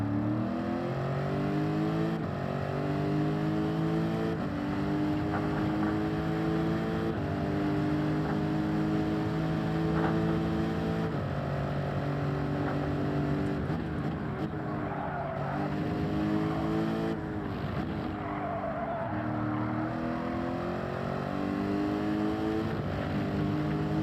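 A race car engine in Gran Turismo 7 revs out through 4th gear, a loud, continuous whine rising and falling in pitch with several gear changes across the stretch, with no talk over it.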